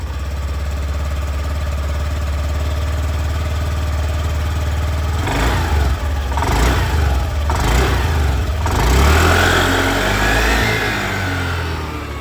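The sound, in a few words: Honda Activa 110 scooter exhaust sound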